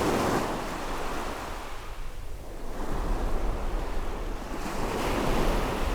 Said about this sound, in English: I hope you can see that splash of the sea just there.